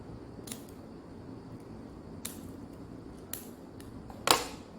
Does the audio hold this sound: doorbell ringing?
no